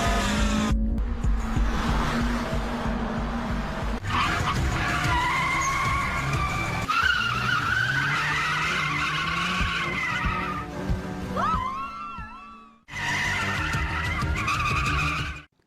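Racing cars skidding in a mountain-pass street race, a Toyota AE86, a Mazda RX-7 FC and a Lancer Evo, with loud continuous tire squeal and engine roar, a short pitch-sliding screech near the end, a brief gap, then renewed skidding.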